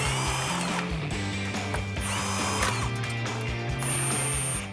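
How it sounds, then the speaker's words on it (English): A cordless impact wrench whirs and hammers loudly and continuously up close as it removes the grille bolts on a 2013-2015 RAM 1500 pickup. "So I'm gonna use my cordless impact."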